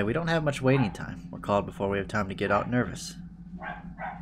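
Dogs bark in the background, fainter than a voice that talks steadily over most of the stretch, with a few short yips near the end.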